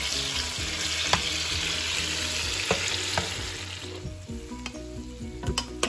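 Steady sizzling of chili peppers frying in a hot pan for salsa verde, a dense crackle with a few sharp pops, close and continuous.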